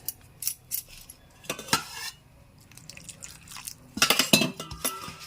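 Janthikalu dough of rice flour with salt, carom seeds, sesame, chili powder and warm oil being mixed by hand in a metal bowl, giving intermittent scraping and clinking bursts, loudest near the end, with no voices.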